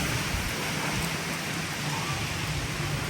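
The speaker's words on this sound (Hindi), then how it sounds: "और फाइनली यार बारिश हो गई है।" Steady rain pours down in a dense, unbroken hiss during an evening storm, with a faint low rumble of thunder beneath it and no voices.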